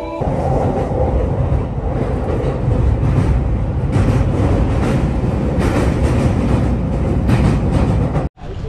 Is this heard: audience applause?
no